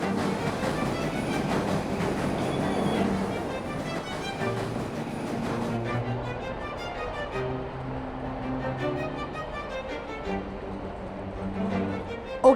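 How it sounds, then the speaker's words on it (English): Trains rumble and clatter through Shinjuku station in Japan, a steady rolling rail din with rhythmic wheel clicks and a busy station hum, no talk over it. "Okay, now we are at Shinjuku train station. This is the world's busiest train station."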